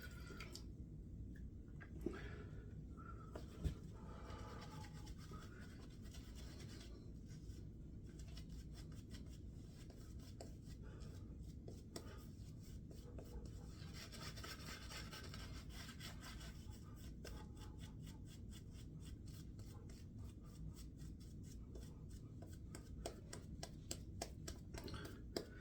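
A razor scrapes steadily across the skin in repeated short strokes, with soft rasping close to the microphone, sustained throughout with no speech.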